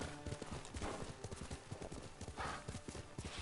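Horse hooves clip-clopping steadily while riding in Ghost of Tsushima, a continuous rhythmic gallop close up over a dense ambient game background, with no clear talk.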